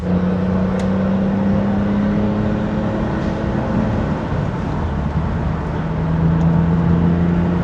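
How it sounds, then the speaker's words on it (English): A BMW 850i V12 engine drones steadily at half-throttle cruise with a low rumble, mixed with constant wind rush from an open window, no talking. "I apologize in advance for wind noise, but I need some fresh air in here"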